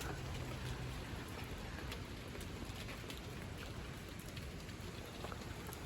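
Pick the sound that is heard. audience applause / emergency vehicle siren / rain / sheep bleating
rain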